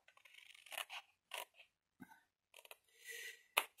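Scissors snip through paper for a craft box in a series of short, crisp cuts with brief pauses between, close and quiet, ending in a sharp final snip.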